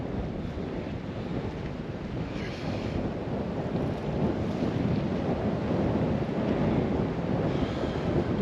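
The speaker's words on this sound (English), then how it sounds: "the wind itself is just so strong" Strong wind buffets the microphone at a lochside wild campsite, a constant loud roar with surging gusts and a low rumble like surf, no voices heard.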